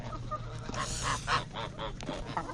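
Geese honk loudly in a rapid series of harsh calls while a hen chases them away, with a low background hum beneath the flock.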